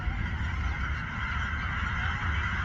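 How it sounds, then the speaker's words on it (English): A large flock of hundreds of geese honks continuously, many overlapping calls forming a steady distant chorus with no talking. "Lots of geese. Hundreds of geese."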